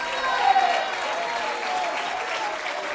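A church congregation claps together in sustained, dense applause, a steady wash of many hands that rises slightly near the start and holds at an even level throughout.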